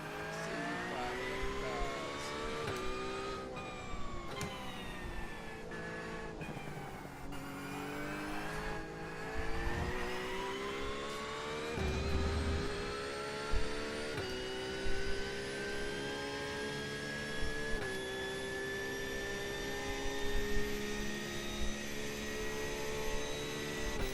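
Racing cars in a video game roar steadily throughout, engine pitch climbing and shifting with repeated revving and gear changes, a continuous loud drone with no pauses.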